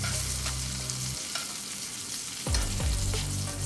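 A New York strip steak sizzles hard in a hot pan while being basted with foaming fat, a continuous loud crackle broken by soft scraping and spoon strokes.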